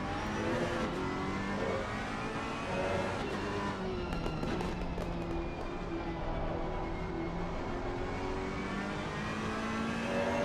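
The Ferrari 488 Evo GT race car's engine roars from onboard in a racing video game at Barcelona, a continuous loud rasp with rising and falling revs and sharp crackling pops through gear changes.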